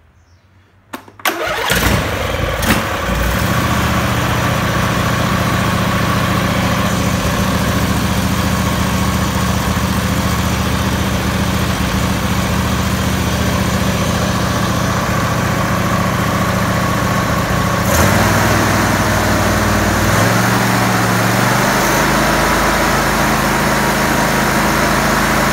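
A repaired 2007 Husqvarna engine with a new battery and spark plugs cranks and catches after a second, then runs loudly and steadily at idle, its pitch shifting slightly near the end.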